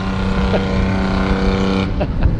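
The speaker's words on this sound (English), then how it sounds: "It's got a 3-cylinder Yanmar John Deere in it." A diesel rat rod golf cart fitted with a 3-cylinder Yanmar John Deere engine runs close by, a loud, steady, throbbing idle with dense harmonic rumble and no talking.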